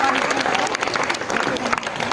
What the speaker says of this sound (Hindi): बच्चों अच्छी सी तालियां बजेंगी जोर से।